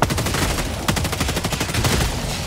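Rapid bursts of energy-weapon fire from a gun in the video game Helldivers 2, a dense crackling volley of repeated shots running loud and continuous with a sharper blast near the middle.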